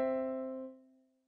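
Two sustained tones sounding together a major tenth apart, the upper note two and a half times the lower, struck cleanly and left to ring alone before fading out.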